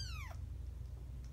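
A three-week-old foster kitten gives a single faint, short descending meow over a low steady background hum, then quiet.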